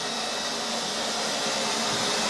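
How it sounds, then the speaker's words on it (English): A Neato Signature XV Pro robot vacuum cleaner runs with a steady, loud, close whirring hum that holds even and unbroken throughout, with no voices over it. "The hoover goes all the way around"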